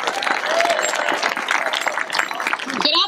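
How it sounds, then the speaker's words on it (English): Audience applause at an outdoor Pedal on Parliament 2015 cycling rally, a steady rush of clapping from a crowd lasting about three seconds, fairly loud and close, with a brief shout or voice near the end. "So please give her a round of applause."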